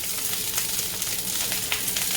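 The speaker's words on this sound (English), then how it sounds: "we are stir frying" Vegetables stir-fry for veggie lo mein in a very hot pan, a steady loud sizzle with faint crackles throughout, close up and without voices.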